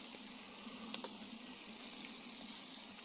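Food sizzles quietly in a pan at a campsite in France, a soft continuous crackle with a few small pops, faint and with no talking.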